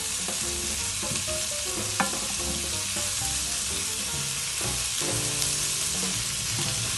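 Merguez filling sautés steadily in a pan, giving a continuous sizzle and frying hiss with occasional stirring scrapes and clicks, loud and close throughout with no talking.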